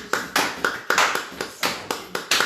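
A congregation at a midday prayer service claps to acclaim the Lord, about ten sharp, steady claps at a brisk, regular beat. The clapping is close and fills the room with no voices over it.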